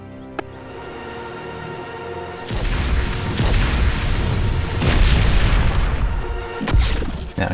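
Light and corrosion mortar shells fire and detonate in the sci-fi tower-defense game Siege of Centauri, a dense run of heavy booming explosions that bursts in abruptly after a quieter mechanical hum and keeps rumbling, loud and close.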